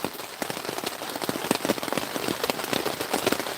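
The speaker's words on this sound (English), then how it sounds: "I am camped up by a lake. Heavy rain." Heavy rain drumming steadily on a tent pitched beside a lake, a dense close patter of countless drops with sharper individual splats throughout, loud and continuous with no voices.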